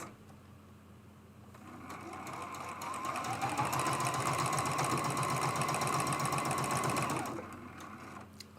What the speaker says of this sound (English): We're just sewing a seam, 1/4 inch